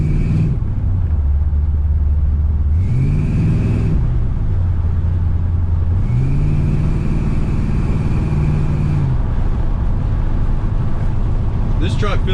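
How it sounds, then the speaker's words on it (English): A truck drives down the road, its engine rumbling steadily from inside the cab and rising in pitch through two accelerations before easing back, with no talk over the constant drone. "This truck feels pretty good going down the road, nice and solid."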